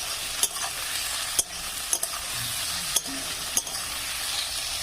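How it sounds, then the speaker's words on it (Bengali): Small chopped potatoes frying in a pan, with a steady sizzle and several sharp scrapes as a spatula stirs them at irregular intervals, close and clear with no talking. "এখানে আমি দিয়ে দেবো ছোট ছোট করে আলু কাটাগুলো। দিয়ে আমি একটু নেড়ে নেবো এইভাবে।"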